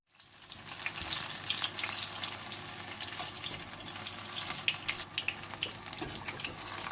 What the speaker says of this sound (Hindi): आप तेल को गर्म कर लें और पकोड़ों को इसमें तल लें